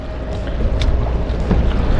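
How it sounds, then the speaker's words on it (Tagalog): Strong wind buffets the microphone in a steady, loud roar with low rumbling gusts throughout, no voices. "medyo malakas lang po talaga ang hangin ngayon"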